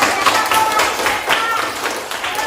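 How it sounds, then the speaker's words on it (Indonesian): A primary school class claps for a student after she reads a rhyme, a short burst of close, loud hand claps in an indoor classroom lasting a couple of seconds. "Ya, kasih tepuk tangan Mbak Ega."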